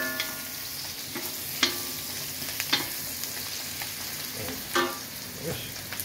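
Sautéing in a pan while making laing, a soft continuous sizzle with a few light clinks and scrapes of a utensil scattered through, fairly quiet and close, with no voices.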